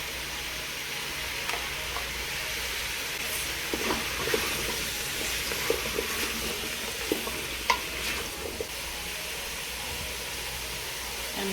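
Soft, steady simmering hiss from a pot of fish broth, with scattered light clinks and scrapes as shadow beni is thrown in and stirred, close and fairly quiet.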